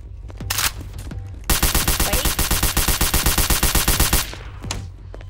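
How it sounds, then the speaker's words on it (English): A very fast automatic gun fires a rapid, evenly spaced burst of about thirty shots in the video game Garry's Mod DarkRP, loud and close, followed by a few scattered clicks and thumps. "This gun is so fast."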